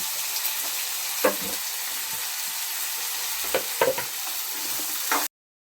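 Chopped beans and carrots frying in a pan for avarekalu uppittu, a steady close sizzle running throughout with a few sharp clatters of stirring, no talking.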